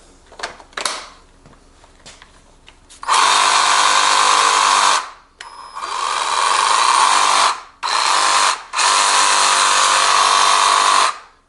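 A Craftsman 19.2V C3 cordless drill runs on an aftermarket Biswaye battery, giving several loud whirring bursts of a few seconds each with short pauses between, after faint clicks and handling noises.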